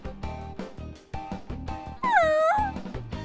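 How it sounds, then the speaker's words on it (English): A puppy's faint cry in the Persona 3 video game, a short high whining whimper rising then falling, heard over rhythmic game music. "You hear a dog's faint cry from somewhere."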